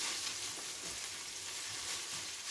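Pointed cabbage sizzles in a pan of oil over fairly low heat, a steady, dense hiss of frying that continues evenly throughout with no voices.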